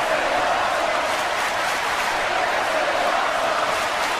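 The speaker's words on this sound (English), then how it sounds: "The crowd is chanting, "This is awesome,"" A wrestling crowd roars and chants in a large arena, a dense, continuous wash of massed voices at steady volume with a faint rhythmic pulse, no single voice standing out.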